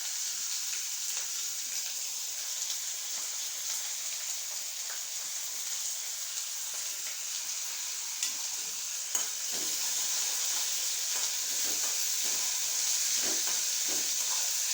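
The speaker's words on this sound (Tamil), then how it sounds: "நல்லா வதக்கணும்." Sliced onion and a small tomato sautéing in a pan, a soft, steady sizzle and hiss with faint scraping stirs throughout, fairly quiet and close with no talk.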